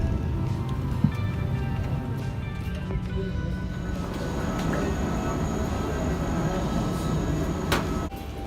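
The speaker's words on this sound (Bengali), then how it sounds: "এখান থেকে ট্রেনে করে আরেক টার্মিনালে যেতে হচ্ছে।" A transfer train at Doha airport carries passengers between terminals, giving a steady, fairly loud rolling rumble that runs throughout, with faint rattles and a brief squeal near the end.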